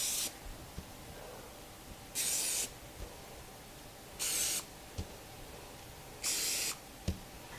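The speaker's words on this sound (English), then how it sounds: "I'm going to spray where the potato will be." Cooking spray hisses onto parchment paper in three firm bursts of about half a second each, with faint clicks of the can between them in a quiet kitchen.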